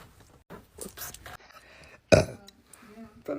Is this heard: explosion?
no